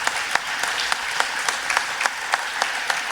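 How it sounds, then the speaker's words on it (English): Audience applause at a city's State of the City address fills the room as a dense, steady patter of many hands clapping, with a few sharper individual claps standing out over roughly three seconds. "give her a round of applause"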